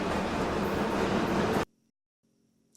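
A toy train set pulls away from its station and takes a curve, giving a steady broadband rolling whir that cuts off abruptly partway through, then a brief faint return near the end.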